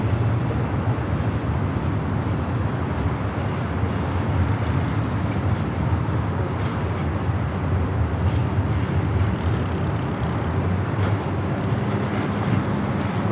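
A Lufthansa Boeing 747 airliner arriving at Los Angeles International Airport, a steady distant jet roar with some wind noise, sustained and fairly even throughout.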